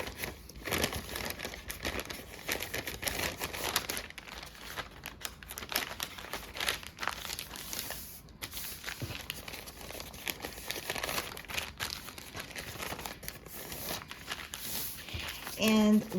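Paper bags crinkle and rustle steadily as their bottoms are pushed out for a junk journal, close and continuous, with soft handling taps and a voice talking over much of it.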